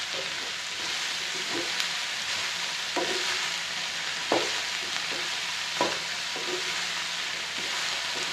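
Okra with turmeric powder frying in a pan, a steady sizzle with periodic scraping strokes of a spoon as it's stirred, each stir producing a brief louder clatter.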